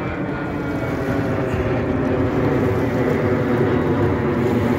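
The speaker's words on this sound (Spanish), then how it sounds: "Eso es un avión, Lolita" An airplane over the Río de la Plata in Buenos Aires gives a steady, loud engine drone that holds evenly throughout with no talk.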